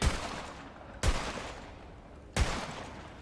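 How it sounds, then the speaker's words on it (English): Three loud, sharp gunshots from weapons fired at a shooting range in Tiny Tina's Wonderlands, evenly spaced about a second apart, each with a booming onset and a lingering decaying tail. "Look, I can actually test guns on these."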